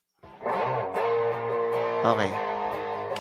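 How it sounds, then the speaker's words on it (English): An electric guitar played through a regular distortion effect rings out in sustained, gritty chords that are loud and close, shifting pitch a few times over three seconds. "That's a regular distortion."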